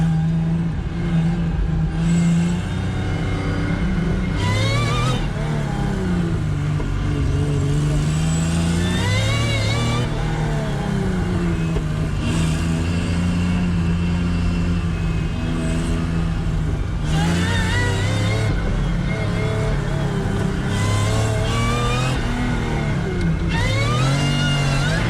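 A supercharged J32A2 V6 in an SW20 Toyota MR2 revs loudly while driving, pulling up through the gears with repeated rising surges, brief lifts between shifts, and a dense, continuous engine roar close to the microphone.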